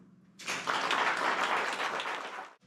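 Conference audience breaking into applause at a church leadership session in China, a dense wash of clapping that swells quickly, holds steady for about two seconds, then stops abruptly, with no talk over it.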